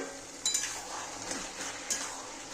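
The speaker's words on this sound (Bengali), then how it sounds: "এবার আবার একটু নেড়ে দেব।" Soft scraping and light clinks of a spatula stirring bottle gourd in a pan, two brief louder scrapes over a steady low hiss of cooking, with no talking.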